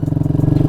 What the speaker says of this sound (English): then just start the bike